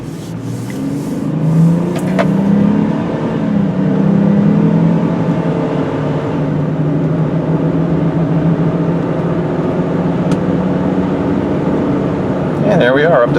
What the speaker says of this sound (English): Hear a fair amount of road noise, not bad.